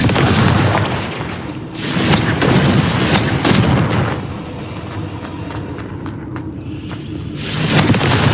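Confringo fire spell explosions in Hogwarts Legacy, with loud booming blasts near the start, around two seconds and again near the end, and a rumbling roar between them.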